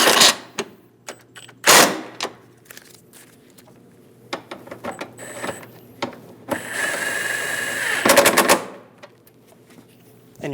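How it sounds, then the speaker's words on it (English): Hold-down bolts on a Chevrolet Silverado 2500 HD battery being tightened, quick ratcheting clicks and scattered metallic taps, close by, with a longer buzzing run of ratchet turns near the end. "Snug down both bolts."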